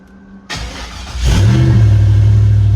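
A cold start of an LS-swapped 1973 Chevy Impala: a brief cranking catch, a loud rev flare, then the V8 settling into a steady, close, rumbling idle.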